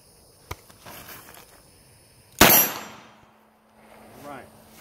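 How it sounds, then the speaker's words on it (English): A Smith & Wesson 586 revolver fires a hot Fiocchi 125 grain round at an outdoor range, one loud sharp report with a ringing tail, preceded by a small click and followed by faint background noise. "Let's do some shooting with this 586."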